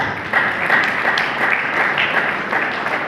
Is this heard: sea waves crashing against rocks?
no